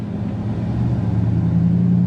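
A 2003 Dodge Ram truck's engine rumbles and climbs in revs while driving, a loud, close, steady low drone that rises slightly toward the end.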